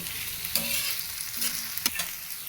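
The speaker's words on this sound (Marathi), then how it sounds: "कांदा मीठ टाकलं ना लवकर भाजते" Steady sizzling of onion frying in a pan with salt, with a few brief scraping stirs of a utensil; no voices.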